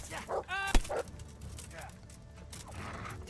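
A dog in the medieval role-playing game Kingdom Come: Deliverance gives a short whimpering yip and bark, fairly close, with a sharp click in the middle and game background sounds behind it.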